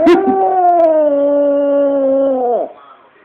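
A Chihuahua lets out one loud, close, sustained howl lasting a few seconds. It holds a steady pitch, then drops and trails off into quiet.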